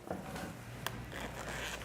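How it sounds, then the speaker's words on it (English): A small zipper on the back of a paper doll dress is pulled, giving a faint, brief rasp with a sharp click near the middle, close and quiet. "this one has a zipper in the back too?"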